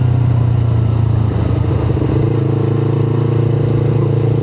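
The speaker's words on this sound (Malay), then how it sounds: "panaskan enjin." Engine of a 2018 Yamaha R25 V1 motorcycle idling while warming up, a steady, close, loud low rumble with an even pulse throughout and no voices.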